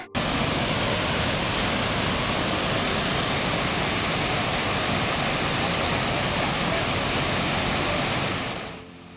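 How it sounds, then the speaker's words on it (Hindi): Monsoon rainwater pours steadily into a newly built rainwater harvesting dam, a loud, unbroken broadband rush like a waterfall that holds constant before fading out at the end. "बरसात के पानी से बांध लबालब भर गया।"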